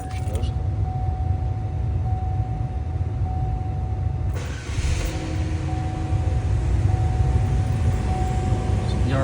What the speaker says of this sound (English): We're going to turn it on, run for a few seconds, and shut it off.